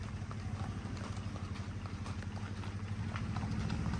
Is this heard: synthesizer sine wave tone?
no